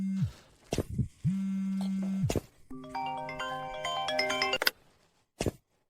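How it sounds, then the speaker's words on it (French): A phone rings unanswered: low buzzing tones pulse in short bursts, then a bright melodic ringtone plays clearly before cutting off, with a last brief buzz near the end. "Nina, décroche."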